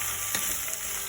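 Roasted quinoa and vegetables sizzle steadily in a hot pan, a continuous crackling hiss with a faint scrape of stirring.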